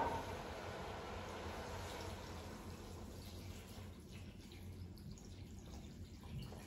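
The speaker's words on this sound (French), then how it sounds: "Là, on va mettre de l'eau." About one and a half litres of water poured into a pot of vegetable soup, a steady, continuous rushing splash that holds even throughout, fairly quiet and close, with no voices.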